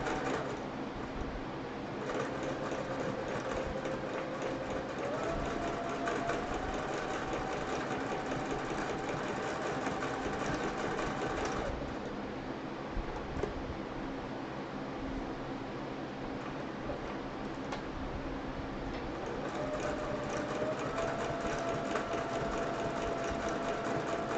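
A sewing machine machine-quilts a chicken quilt in a home studio, running as a steady, continuous whir for the whole stretch, with its pitch rising and settling as the speed changes. No one speaks.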